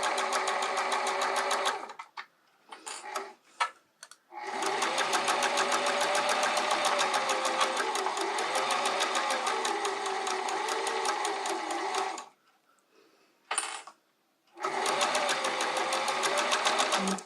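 Sewing machine stitches seams on a reusable produce bag in long steady runs, with two short pauses around the second and thirteenth seconds before the motor buzzes on again, close and clear.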